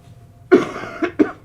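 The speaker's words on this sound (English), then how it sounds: "I apologize for the coughing this morning." A person with a cold coughs three times close up, one strong hacking cough and then two shorter ones in quick succession, alone in a quiet room.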